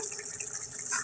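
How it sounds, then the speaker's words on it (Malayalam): Boiling water pours and splashes briefly into a pot of goat intestines for cooking, a short bubbling gurgle at moderate volume with no voices. "ആവശ്യത്തിനായിട്ടുള്ള വെള്ളം ഒഴിച്ചെടുക്കണം"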